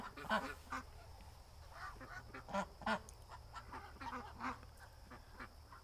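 Several ducks quack and honk in scattered bursts, fairly close, with overlapping calls and quiet background noise.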